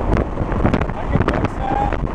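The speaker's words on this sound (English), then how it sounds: "It's rather windy!" Strong wind gusts buffet the microphone outdoors, making a steady, loud broadband rumble that surges and dips throughout.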